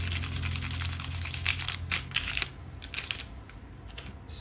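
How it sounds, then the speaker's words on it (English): Titanium EDC gear being high-polished with very fine grit sandpaper, a close, rhythmic scratchy rubbing in quick strokes that pauses briefly before resuming more quietly. "I'm trying to high polish, not mirror polish, but high polish it with some really fine grit sandpaper."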